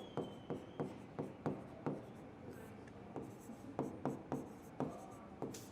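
Chalk or marker strokes on a classroom board during a general knowledge lesson, a steady series of short scratchy taps and rubs repeating roughly every half second, close and clear with no talk over them.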